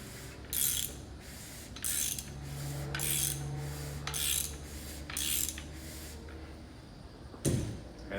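A rebuilt 1959 Plymouth Poly 318 V8 being rotated by hand on a stand, giving a series of about six rhythmic ratcheting, rasping strokes over a low steady hum, with a louder clunk near the end.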